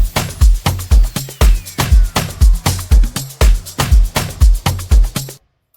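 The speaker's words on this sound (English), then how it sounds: "And then so the drums will be sounding like this." Looping Afro House drum pattern programmed in FL Studio, with steady punchy kicks, crisp hi-hats and percussion hits repeating in a tight, driving groove, loud and alone before stopping abruptly.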